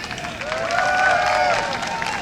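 Crowd at a StarCraft 2 tournament semi-final cheering and applauding, a dense roar of voices and clapping that swells and holds steady for a couple of seconds.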